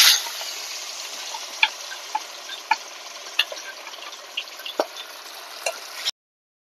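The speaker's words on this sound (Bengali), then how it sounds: "বাকি মাছগুলোকেও আমি একই রকম ভাবে ভেজে নেব" Pieces of silver carp frying in oil in a pan, a steady close sizzle broken by scattered sharp pops and crackles, ending abruptly, no talking.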